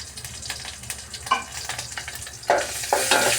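Chopped ginger and garlic with spices fry in a pan, a close, continuous sizzle punctuated by several sharp stirring scrapes that grow louder toward the end, with no talking.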